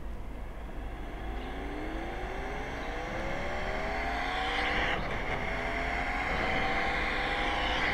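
A phone app simulating a Yamaha MT-10 crossplane engine plays a throttle blip as the revs climb and fall in smooth rising sweeps, a steady synthetic roar heard close with no talking.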